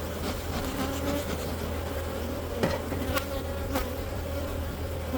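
Honeybees hum in a steady, dense drone during a late-December beehive inspection. The buzzing is close and continuous, with a few faint clicks and taps in the background.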